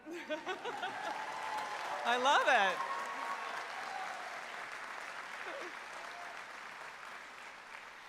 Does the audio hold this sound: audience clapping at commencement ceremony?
yes